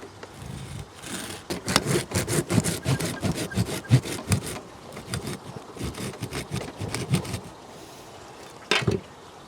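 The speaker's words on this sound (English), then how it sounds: "I'm going to take the saw to these roots just to get rid of this big thick piece" A hand saw cuts through a thick bonsai tree root, making steady, rhythmic rasping back-and-forth strokes for several seconds. The strokes are close and fairly loud, then stop, with one last short scrape near the end.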